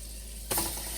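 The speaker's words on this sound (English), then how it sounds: "Listen to that sizzle." A sudden burst of sizzling as chicken hits a hot pan with a little olive oil, continuing as a steady crackling hiss.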